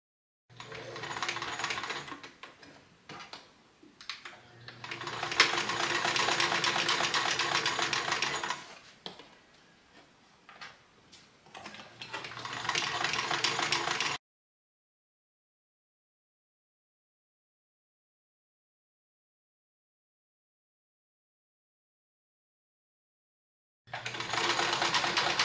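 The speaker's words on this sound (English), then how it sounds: "you'll simply add the base of the thread catcher on and" A sewing machine stitches all the way around the base of a fabric thread catcher, running in loud bursts with brief pauses and a short stop midway, then a long silence before it starts up again near the end.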